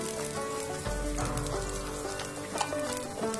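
Tomatoes fry in a pan with a little salt while making palak paneer, giving a steady, close sizzle with small crackles and pops scattered throughout.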